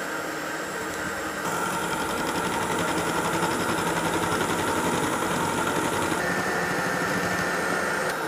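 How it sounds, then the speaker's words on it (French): Electric hand mixer running steadily at speed 3 while beating eggs for a rolled sponge cake, a continuous loud motor whine with a slight rise in pitch after the first second and a dense rattling buzz throughout. "je reste sur vitesse 3 sur mon batteur électrique"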